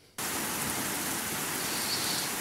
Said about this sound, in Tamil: இன்னைக்கு போய் பார்த்து இவ்வளோ மழை வருது